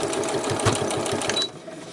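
Sewing machine running steadily as it stitches pieces of fabric together into a snippet roll, a continuous close mechanical whirr with rapid needle ticking that slows and softens near the end.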